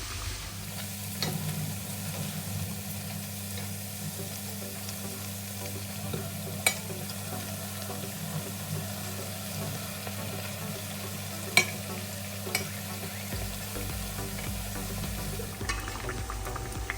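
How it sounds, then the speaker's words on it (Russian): Sweet crumpets fry in oil until golden, giving a steady, soft sizzle with a low bubbling bed and a few sharp pops and crackles, unbroken for seventeen seconds. "И вот так вот буду обжаривать все пышечки до румяного цвета."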